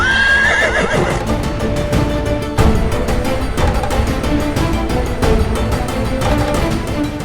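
A horse whinnies loudly near the start, then its hooves clip-clop in a steady, close rhythm, with a busy background underneath.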